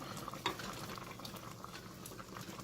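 Heirloom tomato soup bubbling steadily in a pot after half an hour of simmering, a continuous soft burble of popping bubbles with one sharper pop near the start, close and alone.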